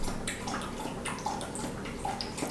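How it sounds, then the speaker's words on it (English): A dog laps drinking water with a quiet, wet, continuous splashing and dripping, faint and steady, with no voices. "Hear my dog drinking water."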